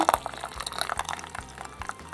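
Dark blackberry decoction strained through a small sieve into a glass: close, light trickling and dripping of liquid with soft splashes, alone and fairly quiet.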